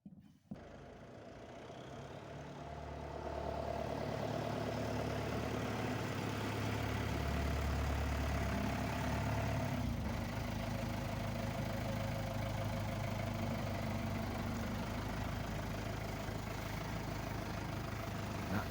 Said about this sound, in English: I'll go and get the tractor and head off to the mill.